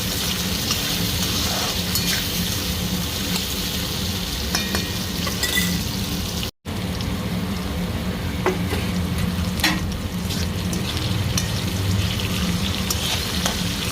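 Okra fries in hot oil with turmeric and salt, the small pods whole and the longer ones cut in half, giving a steady, dense sizzle with a brief break midway and no talking.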